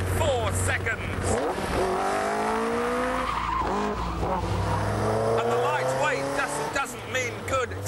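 A Caterham R500 sports car accelerates hard with sharp rising engine revs through several gear changes and tire squeal, loud and close, with a person talking over the engine.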